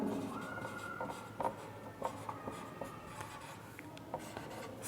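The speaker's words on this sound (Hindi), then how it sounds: "मैं इसको यहाँ पर लिखती हूँ" A pen or pencil writes by hand on paper during a biology lesson, giving soft scratching strokes and light taps in an irregular rhythm, faint and close, with a low steady hum beneath.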